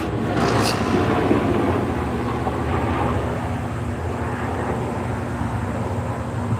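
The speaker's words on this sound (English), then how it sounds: "That's another army chopper." An army helicopter passes overhead outdoors, a steady, broad rumbling roar that stays loud and constant without a break and with no talking.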